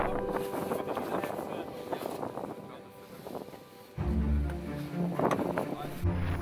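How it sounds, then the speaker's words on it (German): Strong wind rising while a tent is pitched near the Old Man of Storr rock formation in Scotland: a gusty, rumbling roar buffets the microphone and swells suddenly partway through. "Doch gerade als wir unser Zelt aufstellen wollten, kam ein starker Wind auf."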